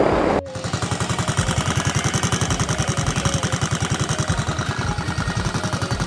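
A seat rattles on a 2023 Yamaha Fazzio scooter at idle, a fast even buzzing rattle riding over the steady engine putter throughout, close and continuous.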